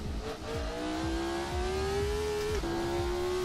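A race car engine in the Assetto Corsa racing game revs steadily, its high-pitched whine climbing, briefly dipping at a gear change, then holding loud and continuous with rhythmic low thumps beneath, no talking.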